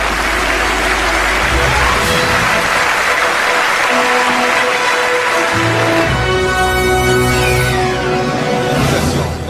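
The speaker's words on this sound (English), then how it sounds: "s'il vous plaît, sous vos applaudissements." Applause fills an award ceremony hall, a steady loud wash of clapping with background music tones and some voices rising underneath, continuing throughout.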